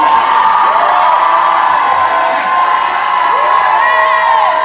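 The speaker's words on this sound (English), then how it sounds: "Everybody else, please cheer for your representative." Campers at a university sports camp cheer and whoop for their representative, a loud, close crowd of young voices with rising and falling shouts layered over a steady roar.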